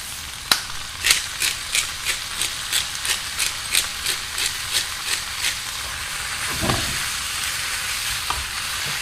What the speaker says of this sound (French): Je vais verser les courgettes.